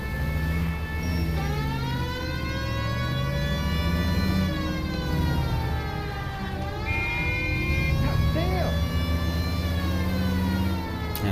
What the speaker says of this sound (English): It's much more fun with the siren on